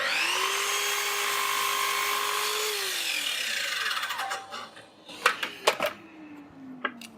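A power saw blade slices a deliberately large cut through a wood workpiece on a sliding router table build. A loud, steady rasping whine lasts about three seconds and then winds down, followed by a few sharp knocks and clatters.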